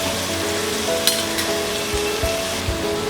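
Chopped vegetables fry in a pan for dalia khichdi, a close, steady sizzle with occasional clinks and scrapes of a spoon stirring them.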